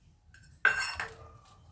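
A metal spoon clinks once against a utensil or bowl while adding two spoonfuls of gram flour to soaked poha, with a brief scraping rattle after the sharp contact.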